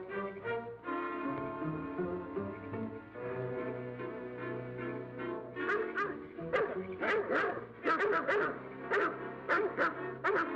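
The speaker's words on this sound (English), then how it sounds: "Hear those dogs?" Several dogs barking and yelping at a distance, first a muffled chorus and then a burst of sharp, rapid barks that grows louder toward the end.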